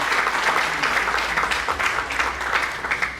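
Audience applause at an Ethiopian community gathering: a dense, fairly close patter of many hands clapping steadily for a few seconds, with no speech over it.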